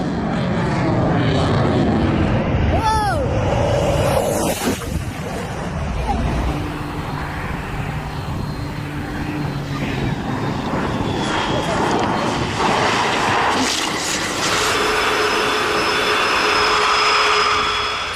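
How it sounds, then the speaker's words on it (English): A Blue Angels jet makes a low transition takeoff, a loud continuous jet roar that holds steady and swells throughout, with a brief high tonal sweep early on and voices under the engine noise. "The Blue Angels never fail to impress, and this low transition takeoff is pure skill and precision"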